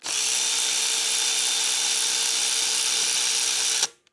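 A power tool whines loudly and steadily while removing bolts under the fuel tank of a Honda Ruckus scooter, then cuts off sharply near the end.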